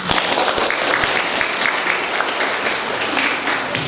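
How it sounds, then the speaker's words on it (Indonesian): Wedding guests applaud in a church as a Catholic marriage is declared, a loud, continuous wash of clapping with individual claps standing out throughout. "Kita beri tepuk tangan."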